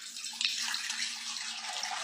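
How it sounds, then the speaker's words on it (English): Five hundred milliliters of water pours through a large funnel in a lab, a steady soft hissing rush with small gurgles, continuous and close. "the timer starts as the water goes through the funnel"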